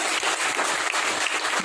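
A live audience claps steadily in a brief, dense burst of applause with no voices over it.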